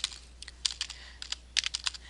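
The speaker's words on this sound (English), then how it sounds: "So just by typing firmware," Fingers tap a computer keyboard in quick, irregular bursts of light, crisp clicks, close and fairly quiet with short pauses between clusters of keystrokes.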